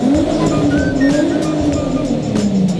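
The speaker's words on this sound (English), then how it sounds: "This is an AP Performance exhaust." A 2004 Infiniti G35 with an AP Performance aftermarket exhaust idling and revving in an enclosed space, giving a loud, deep, steady engine drone close by.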